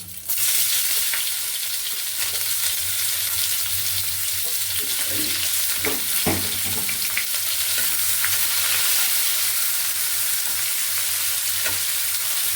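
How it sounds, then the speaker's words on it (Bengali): Chopped onions sizzle loudly in hot oil with bay leaf, whole cumin and whole garam masala, while a spoon stirs and scrapes through them at intervals against a constant frying crackle. "পেঁয়াজটা আমি লাল লাল করে ভেজে নেব।"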